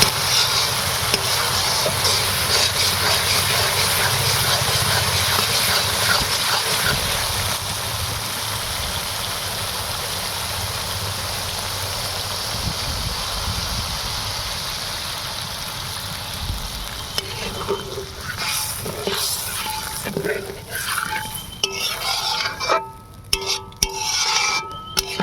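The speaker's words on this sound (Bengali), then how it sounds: "পরিমাণ মতন জলটা দেবো" Bhola fish masala curry sizzles and bubbles loudly in a pan as water is poured in, a steady frying hiss that softens into simmering, with faint clinks and stirring near the end.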